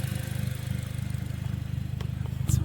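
A 2009 Pontiac Vibe with a new exhaust idles steadily, a low, even engine rumble heard close up with no talk.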